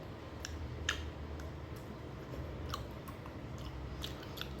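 Chewy strawberry gummy jelly being chewed close up, soft sticky squelches with a few sharper clicks of teeth at an irregular pace, no talking.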